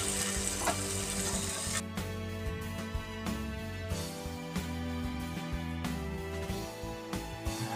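Food, such as capsicum and paneer, fries in a pan with a continuous faint sizzle, punctuated by soft scraping and stirring clatters of a utensil against the pan.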